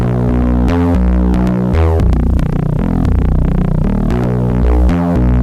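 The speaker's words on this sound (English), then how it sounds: "So it's kind of like a tube compressor or a tube saturation going on there." Audio Damage Kompressor Eurorack module adding tube-style saturation and wave folding to a synth line, a loud, dense, harmonically rich buzzing tone pulsing in repeated notes with a throbbing low end.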